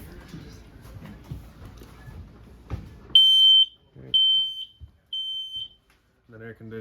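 Smoke detector in a 2014 Forest River Grey Wolf 26BH travel trailer gives three loud, shrill beeps in quick succession after a stretch of quiet room noise.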